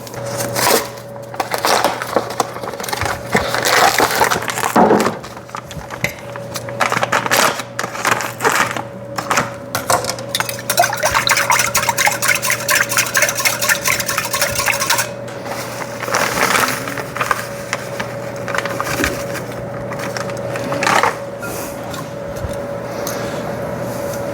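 Chili being stirred in a pot with a spoon, giving a steady run of scraping, clacking and wet tapping sounds over a constant kitchen hum, fairly loud and close, with no talking.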